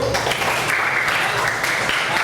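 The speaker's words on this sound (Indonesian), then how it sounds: "Beri tepuk tangan dulu." Students applaud in a classroom during a teacher-training lesson assessment, a steady, dense patter of clapping that fills a couple of seconds at close range.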